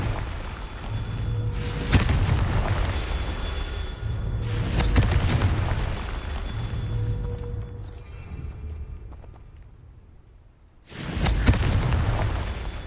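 Blasting spell explosions in Hogwarts Legacy: loud, close booming bursts repeat every few seconds, each a broad rumbling blast that trails off, with a brief quiet gap before the final explosion.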